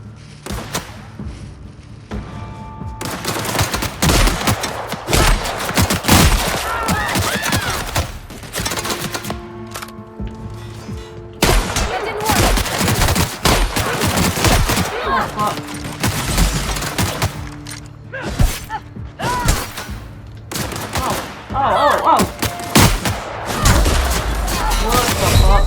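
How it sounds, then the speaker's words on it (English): Gunfire crackles in a video game firefight in The Outer Worlds, with dense bursts, thumps and rattling shots coming in rapid volleys from all around, loud and nearly continuous, broken by brief lulls, with voices mixed in. "The shooting from every fucking side."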